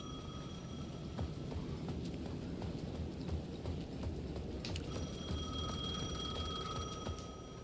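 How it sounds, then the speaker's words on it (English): An old payphone in Alan Wake 2 rings faintly at the edge of a plaza, with a repeating bell tone over a murky, rumbling game ambience that includes soft rhythmic clopping. "The payphone at the edge of the plaza was ringing again."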